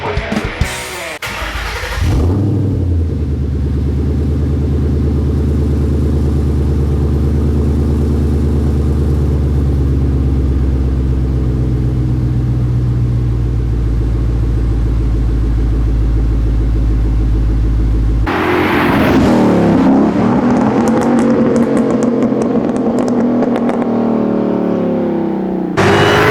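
A Shelby American GT350 Mustang of the S197 generation starts up and drives, its V8 giving a deep steady rumble heard from inside the car for a long stretch, with a brief rise in revs near the end and no talking.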